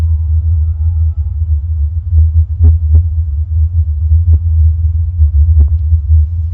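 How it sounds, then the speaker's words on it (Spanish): A recording of the Taos Hum, a deep, steady low rumble that drones without a break, with a few faint knocks rising above it now and then. "Ahí tenemos el sonido de Taos de nuevo."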